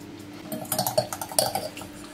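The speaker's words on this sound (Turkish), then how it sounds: "Çırpıyorum." A spoon whisks oil and flour together in a bowl for a crispy börek topping, giving quick, rhythmic clinks and scrapes for about a second and a half with no talk.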